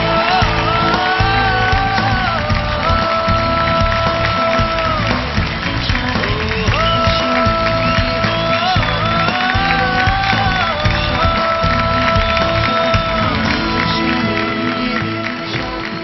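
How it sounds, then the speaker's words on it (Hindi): An Indian TV talent show audience applauds and cheers loudly and steadily, with a dense layer of music playing over the clapping throughout. "एक बार जोरदार तालियां हो जाएं and please welcome to the show."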